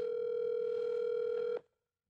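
A telephone dial tone plays while a call is being placed, a steady, unbroken electronic hum lasting about a second and a half before it cuts off abruptly, with no voices over it.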